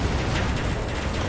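A cannon firing in the video game Metal Gear Solid V, with a dense, sustained, loud roaring blast filling the whole moment and no speech.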